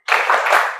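A group claps in a short, spirited burst, the brief applause starting sharply and fading within a second, close and fairly loud.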